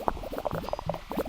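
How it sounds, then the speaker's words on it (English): Game Dev Tycoon's bubble effects produce a rapid string of small popping, gurgling blips, close and fairly loud, with no talking over them. "Look at those bubbles."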